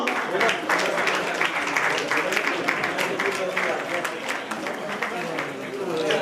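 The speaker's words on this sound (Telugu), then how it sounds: "గట్టిగా చప్పట్లు కొడదాం." An audience at a Christmas celebration in a community hall applauds steadily, a dense wash of clapping that holds at an even level for several seconds with crowd murmur mixed in.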